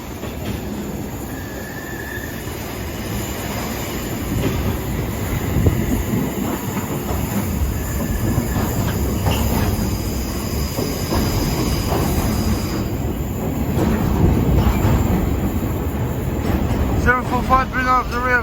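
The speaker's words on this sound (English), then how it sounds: "There goes the 7030 to Charing Cross." Passenger train bound for London Charing Cross passing through Lewisham station, a loud continuous rumble and rattle of wheels on rail with screeching wheel squeal near the end, passing close by with some talk over it.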